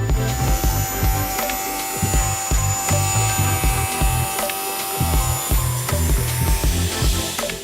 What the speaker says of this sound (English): I'm also going to chuck the 45-degree bevel cut onto the leg assemblies